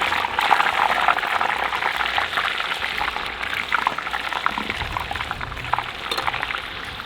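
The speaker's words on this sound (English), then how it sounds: "So now we are frying our French fries." French fries cook in hot oil, giving a dense, steady bubbling and crackling hiss that stays close and even for the whole stretch, with no talking.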